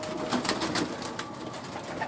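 A Kamangar pigeon held in hand at a Karachi breeder's loft gives soft, low coos, with a steady murmur of background noise behind it.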